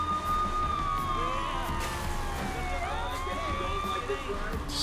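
Police siren in the Saints Row The Third video game, wailing up and down at moderate distance over a low background rumble of game traffic.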